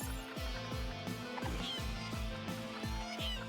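Chickens cluck in the video game Secrets of Grindea over a looping game soundtrack with a regular thudding beat, the fowl calls faint and scattered beneath the music.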